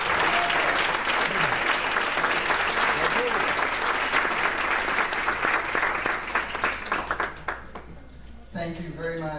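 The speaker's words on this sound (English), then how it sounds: "let's please give a warm welcome applause to Dr." A large audience at a Tampa political event applauds to welcome a speaker, with dense sustained clapping filling the room for several seconds before fading out, followed by a voice beginning to speak.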